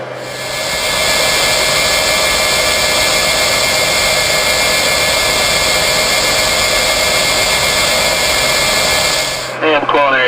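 Pratt & Whitney JT3 jet engines on a DC-8 running during engine checks, a loud, steady roar with a high whine held constant for several seconds before a brief shift near the end.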